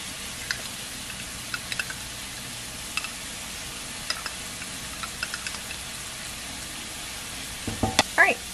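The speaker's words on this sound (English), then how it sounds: "I'm going to add in about 2 teaspoons of minced garlic and let that continue to cook." Mushrooms and minced garlic fry in a pan with a steady, even sizzle and scattered light ticks, then a few louder scrapes of stirring near the end, with no talking.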